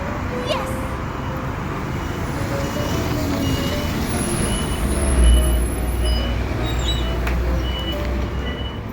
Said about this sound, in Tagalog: At nandito na po yung bus na sasakyan natin papuntang Fishport.